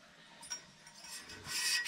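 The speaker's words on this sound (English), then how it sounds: "So we'll get this sanded up, and then we'll get it cut in." Sanding a metal pipe by hand during a boiler air separator install, a soft rasping rub that swells louder and brighter toward the end, close up with no speech.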